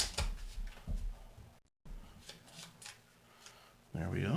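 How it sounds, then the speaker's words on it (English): A deck of cards for the tabletop board game Forbidden Island is shuffled by hand with quick riffling, papery bursts, close by, paused briefly mid-way, while a person talks throughout. "So I'm going to quickly shuffle this deck."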